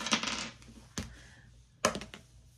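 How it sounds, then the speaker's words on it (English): A six-sided die is rolled on a hard surface, giving three quick clattering taps, each a short rattle fading out before the next, close and fairly quiet. "Let's do this as a six-sided die."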